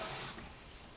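Water from a tap pours into a flour mixture in a bowl while bread roll dough is being made, a steady rushing splash that is strongest for the first third of a second, then settles into a softer trickle.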